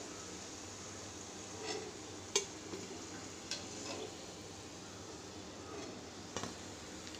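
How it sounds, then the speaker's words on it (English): Donuts frying in oil, a soft steady sizzle with faint bubbling, broken by a few light clicks and taps of a utensil against the pan. "you can fry all your donuts"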